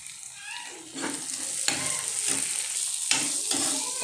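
Ginger garlic paste sautéing in a pan for prawn curry, with a continuous loud sizzle and several distinct scraping stirs spaced about a second apart, close and without talk.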